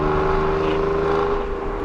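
An Alfa Romeo Giulia Quadrifoglio with a broken exhaust, set to race mode, gives a loud, steady, close engine and exhaust drone throughout.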